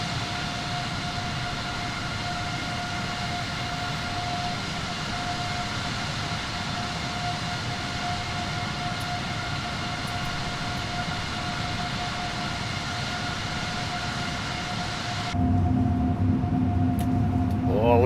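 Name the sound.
Airbus A330neo jet engines howling during climb after takeoff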